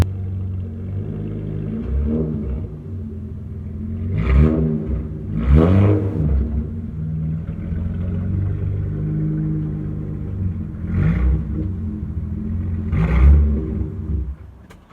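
A lowered car on Raceland coilovers creeps into a parking space, its engine a steady low rumble with a few brief revs and clattering bumps, heard close with no one talking.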